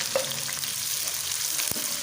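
Onions frying in hot oil with whole garam masala and cumin seeds give a steady, close, crackling sizzle, with one sharp utensil knock near the end.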